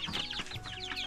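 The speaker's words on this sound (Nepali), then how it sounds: "चल्लाहरू यति धेरै रहेछ है" Chickens cluck continuously at a Nepali village home, with a hen and many chicks chirping together in a dense, fairly close chorus of overlapping calls.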